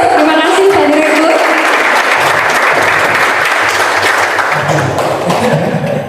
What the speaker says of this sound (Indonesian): Kita beri tepuk tangan yang meriah sekali lagi untuk Pak Direktur.